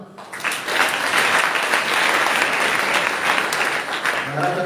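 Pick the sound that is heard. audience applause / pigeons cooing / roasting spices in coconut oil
audience applause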